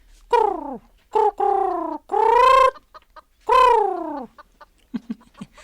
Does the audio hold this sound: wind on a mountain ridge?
no